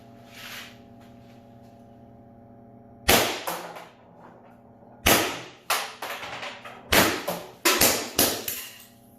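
A less lethal launcher fires a magazine at a steel double-wall baking sheet. There is one sharp crack, a pause, then a quicker string of about six loud close shots, each hitting with a metallic impact and ringing off. A steady low hum runs underneath.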